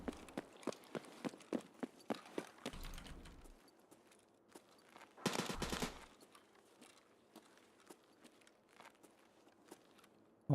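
Video game gunfire, heard as a run of sharp, rapid single shots, then two louder bursts of fire, with scattered shots continuing afterward at moderate distance.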